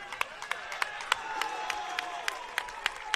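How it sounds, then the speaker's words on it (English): Crowd at a college men's soccer tournament semifinal, heard as sparse, distant clapping with light cheering that carries across an open field, with no talk over it. "As you can hear, the crowd for the Bishops are now starting to get into it just as well as the crowd for the Pacers."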